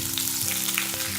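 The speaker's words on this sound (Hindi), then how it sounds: "ओनियन कैप्सिकम हमारा फ्राई हो गया" Onion frying in hot oil in a pan for kadai paneer crackles and sizzles steadily and close, a brief dense spitting sound with no voices.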